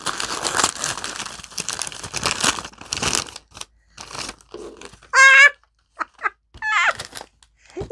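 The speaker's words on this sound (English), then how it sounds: "Okay, crinkling." Packaging is crinkled and handled up close, with loud dense crackling bursts followed by sparser rustles and a few short squeaky sounds.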